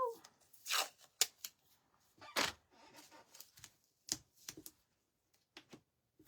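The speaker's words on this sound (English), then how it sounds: "I'm going to grab a piece of tape since these guys are so little." A small piece of tape being pulled and torn while crafting little cardinal figures, a run of sharp close crackles and rips with sparse, irregular clicks.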